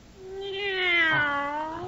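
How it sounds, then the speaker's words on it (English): A cat's meow in an old radio comedy sound effect, one drawn-out, rising then falling mew, close and clear with nothing else over it. "Meow, meow."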